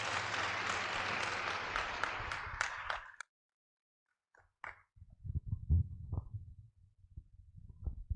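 Audience applause greeting a guest speaker at a Christian gathering, a dense burst of many hands clapping that stops abruptly after about three seconds, followed by low rumbling room noise and scattered soft thumps.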